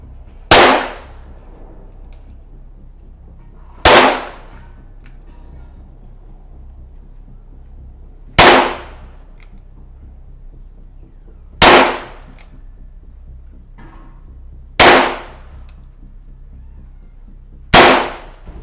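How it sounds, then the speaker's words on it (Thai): Taurus 942 revolver fired single-action at seven yards: six loud, sharp reports spaced a few seconds apart, each with a short ringing decay over a quiet outdoor background. "ปิดโม่ นะครับ เริ่มยิง"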